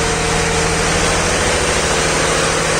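A fishing boat's engine runs in its engine room, giving a loud, close, continuous low idling drone with a steady vibrating throb throughout and no voices.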